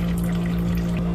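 Fluid drains steadily from a Subaru Outback engine being taken apart after a broken timing belt, heard as a close, continuous pouring trickle over a low steady hum.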